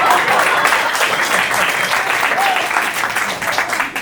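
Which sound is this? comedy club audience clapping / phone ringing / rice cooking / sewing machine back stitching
comedy club audience clapping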